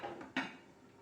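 A lid set down on a cooking pan of sautéed apples, one short metallic clank close by, followed by a soft fading ring.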